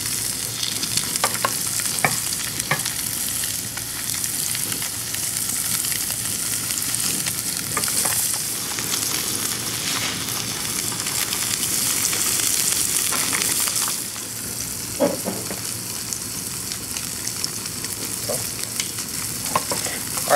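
Chilean seabass searing in a hot pan, a loud continuous crackling sizzle with spitting pops throughout, easing slightly near the end, close and without any speech.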